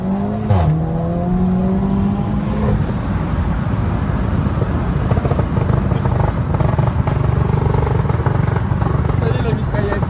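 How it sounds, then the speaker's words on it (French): Loud SEAT León Cupra engine revving up close with rapid crackling exhaust pops and bangs in quick bursts. "y est la mitraillette."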